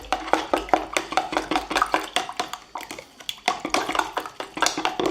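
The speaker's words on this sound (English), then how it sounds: "Give that a quick stir." Ingredients for a fennel-potato gratin stirred briskly in a bowl or pan, a run of quick scraping and clinking strokes close by, steady rhythm with a brief pause midway, no talking.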